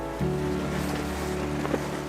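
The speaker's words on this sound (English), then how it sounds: "we are being bullied around by the swirling water a lot" Swirling, fast-running tidal water churns around a sailing boat in Scotland, a steady close rush of water and hull noise with a low drone beneath, continuous and fairly loud throughout.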